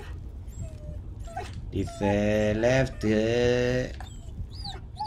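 A dog whimpers and moans in the Blair Witch video game, with two long, loud wailing cries close up, one after the other, amid other noise, while someone speaks briefly.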